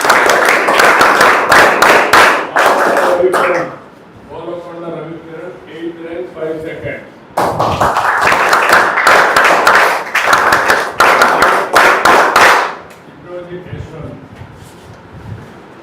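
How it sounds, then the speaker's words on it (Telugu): Loud clapping from an audience at a school parent-teacher meeting as ranks are announced, two strong bursts of rapid claps separated by a stretch of someone talking, with speech resuming after the second burst. "గట్టిగా చప్పట్లు కొట్టండి."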